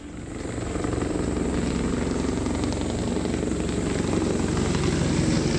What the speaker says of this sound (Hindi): ये जो आप देख रहे हैं योगी का हेलीकॉप्टर आपकी टेलीविजन स्क्रीन पर सैफई में लैंड करा